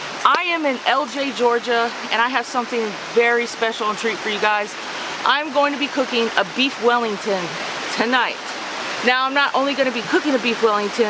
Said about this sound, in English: I'm sure you can hear the beautiful water in the background.